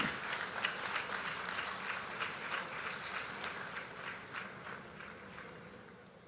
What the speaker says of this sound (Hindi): और आप सबकी तरफ से तालियों के साथ अभिनंदन और स्वागत जरूर हों।